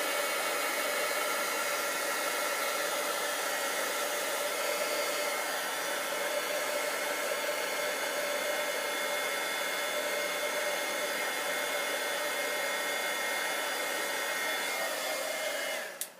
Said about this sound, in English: Then I'm going to take my heat tool.